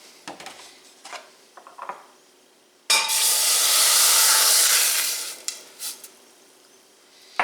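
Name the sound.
mushroom broth and milk sizzling in a very hot pan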